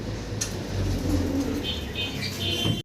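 Pigeons coo softly and repeatedly at a bird seller's stall, a low murmuring chorus of doves close by with faint chirps and a few wing flutters, a voice briefly mixed in.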